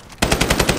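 Rapid automatic gunfire in the shooter game Ironsight erupts suddenly after a brief lull, a loud, close burst of about seven evenly spaced shots.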